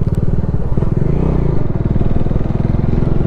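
A motorcycle engine on a solo hill ride putters loudly and close in a fast, even pulse while the rider works the clutch, with a faint rattle and no clear speech.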